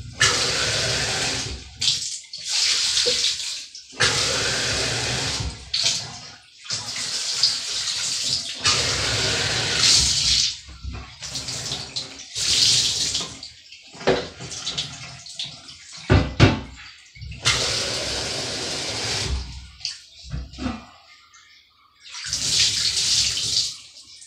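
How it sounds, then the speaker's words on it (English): Water from a tap runs loudly into a baritone horn being cleaned, reaching its valves and slides, in repeated gushing bursts broken by short pauses, close and strong, with no talk. "Just trying to get water in all of the parts, all the valves and slides."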